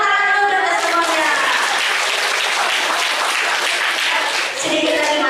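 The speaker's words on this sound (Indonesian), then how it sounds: "Tepuk tangan dulu untuk semuanya." Applause from a seminar audience of students, a dense steady wash of many hands clapping together that holds strong for about five seconds with only a slight dip near the end.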